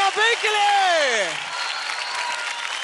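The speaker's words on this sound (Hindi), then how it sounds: "जोरदार ताली हो जाए अभी के लिए" A studio audience on a televised dance competition, Dance India Dance, claps loudly and continuously, with a voice carrying over the applause at the start before it continues alone.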